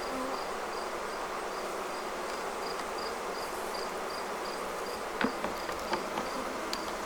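Honey bees buzz faintly around an Apimaye Ergo hive, a soft continuous drone with a few brief louder passes of individual bees near the end.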